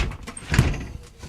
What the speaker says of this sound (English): a curved sliding door